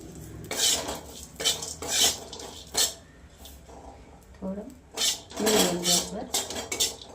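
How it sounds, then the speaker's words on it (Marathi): Cashews and almonds roasting in a little ghee, stirred with a metal spoon that clanks and scrapes against the pan in irregular bursts, close by, with a faint sizzle and brief talk in between. "थोडंसं तूप टाकून घेऊया त्याच्यात काजू आणि बदाम आहेत ना थोडंसं रोस्ट करून घेऊया"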